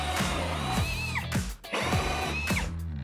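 A power drill bores through lumber during floor framing on a budget house build, its motor whining up and slowing in two long, loud bursts with a brief pause between them.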